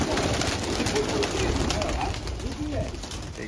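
Around 150 pigeons cooing together in a rooftop loft in Rohtak, a thick steady murmur of overlapping coos close by, with faint voices in the background.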